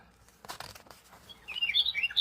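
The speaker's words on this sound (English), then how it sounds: "Over here on the right is the winter wren." A winter wren's song plays from the Cornell Lab bird sound book. A few soft clicks come first, then rapid high, thin chirps and trills ring out fairly clearly.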